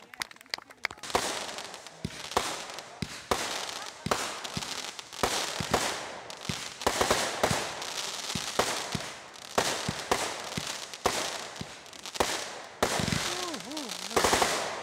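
Canada Day fireworks burst and crackle in rapid, irregular volleys, with sharp pops and sustained fizzling sparkle between them, heard fairly close. A spectator's brief exclamations break in now and then.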